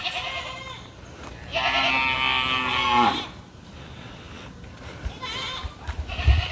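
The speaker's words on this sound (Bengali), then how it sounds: "গরু ছাগলগুলা সব ডাকাডাকি" Cattle and goats calling on a farm beside a mango orchard, a long drawn-out moo with bleats around it, fairly loud and nearby, followed by quieter rustling and a few shorter cries.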